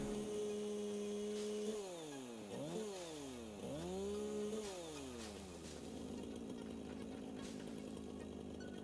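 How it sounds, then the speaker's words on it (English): Chainsaw in the video game Satisfactory revving in a series of rising and falling whines over a steady motor hum, then settling into a rougher cutting drone, loud and close with no talk. "Let's use my trusted chainsaw."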